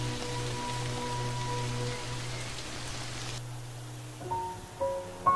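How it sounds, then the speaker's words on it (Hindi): Unseasonal rain falling on the Serengeti plains, a steady broadband patter mixed under sustained musical tones that shift near the end. "ये बेमौसमी बारिश बंद होने का नाम ही नहीं ले रही"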